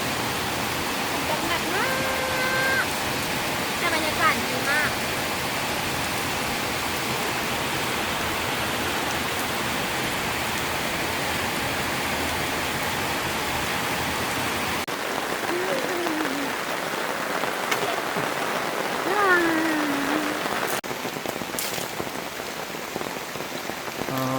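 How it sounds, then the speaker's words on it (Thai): Steady rain falls at a riverside campsite along the Khwae Yai river in Kanchanaburi, Thailand, a dense continuous hiss pattering on surfaces throughout, with a few faint voices and brief sounds underneath. "ฝนตก"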